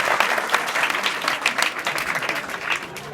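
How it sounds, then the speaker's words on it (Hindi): Students in a classroom break into a short burst of lively, close applause, dense clapping that swells and fades over a few seconds. "तो भाई इस लड़के के लिए तो ताली बजा दो,"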